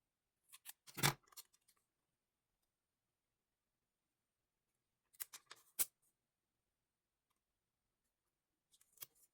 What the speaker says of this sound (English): And I think we're going to cut this right up the middle.